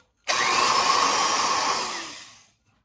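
A power drill's steady, loud whirring drone starts abruptly, holds for about two seconds, then winds down and stops. No talking.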